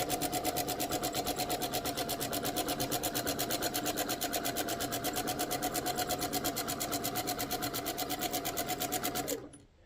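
A sewing machine quilting stitch in the ditch along a seam where two fabric pieces meet, running steadily and close at a fast even stitch rate for about nine seconds before stopping abruptly.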